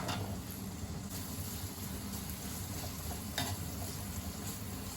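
A steady, quiet sizzle of onion frying in butter in a pan, with faint crackles and occasional soft clicks, no voices.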